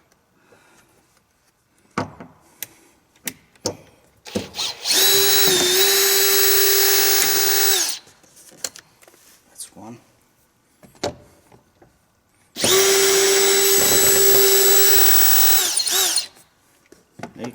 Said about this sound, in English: I have a nice drill here.